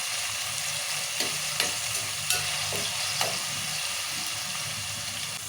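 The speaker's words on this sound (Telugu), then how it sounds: "టమాటా కూడా నూనెలో మంచిగా మగ్గాలి" Tomatoes frying in oil in a pan, a steady sizzling hiss close by with a few sharp clicks of stirring, no talk.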